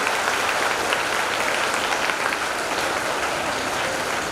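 Children in a hall clap together in dense, steady applause that holds loud and even for several seconds, with no talk over it.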